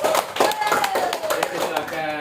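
Students in a classroom applaud a group, a burst of brisk, overlapping hand claps close by, with a teacher's voice talking over the clapping.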